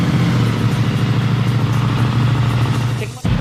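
A 2025 CF Moto 450 SR-S motorcycle engine runs loud and close in a steady, throaty idle-to-rev drone, dipping briefly near the end before picking up again.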